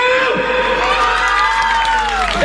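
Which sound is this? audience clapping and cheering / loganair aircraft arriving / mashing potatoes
audience clapping and cheering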